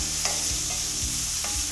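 Bacon fat rendering in a pan gives a steady, moderately loud sizzle and crackle throughout, with a few soft stirring scrapes and no voices.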